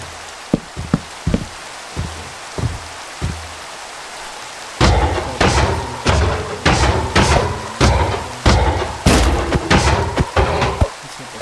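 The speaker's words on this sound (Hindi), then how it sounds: "इतनी बारिश क्यों हो रही है?" Rain pours steadily in the Minecraft video game, a dense hiss that starts abruptly and carries repeated loud cracking thunder-like bursts, with scattered clicks before it begins.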